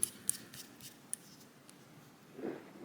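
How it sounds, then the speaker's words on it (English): Screws being driven down into the plastic parts of a TRX4M RC truck, heard as a few soft scraping turns and small ticks of a hand tool, close and quiet, with a light clack near the end. "when you're screwing these down, guys, remember you're going into plastic"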